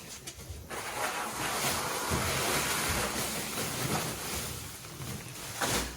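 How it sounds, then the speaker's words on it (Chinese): Water runs from the taps into a newly installed bathtub during a fill test, a steady broad rushing hiss that carries on alone without a break. "开水准备试水"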